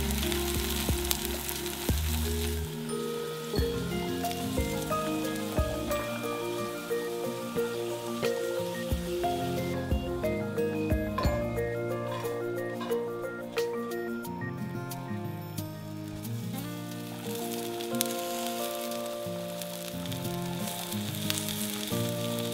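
Potatoes and vegetables with green tomatoes and jalapenos sizzle steadily in canola or grapeseed oil in a sauté pan on high heat, a loud continuous crackle with background music and no talking.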